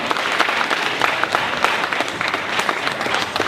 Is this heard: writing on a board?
no